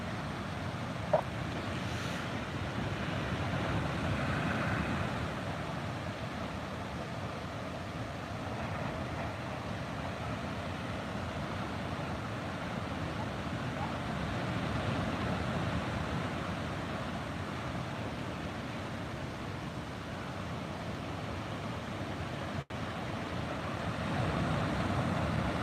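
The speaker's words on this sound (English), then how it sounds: "and lots of waves still." Ocean waves wash continuously at Esplanade Beach in the evening, a steady low roar of surf with gentle swells, heard from a distance with no voices.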